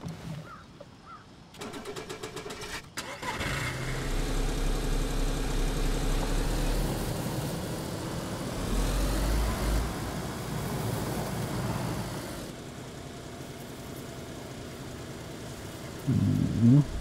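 A car engine in the DayZ video game turns over and settles into a steady running drone lasting several seconds, fairly loud and close, then drops to a lower idle, with a few short game noises around it.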